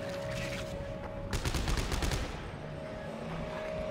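Gunfire in Dead Space 3 erupts as a rapid burst of about a second over a constant low game ambience and hum, sharp and fairly near.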